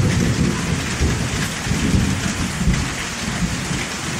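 In Cambodia, a thunderstorm pours heavy rain in a dense, steady hiss, with low rumbling thunder swelling and fading beneath it; no one speaks.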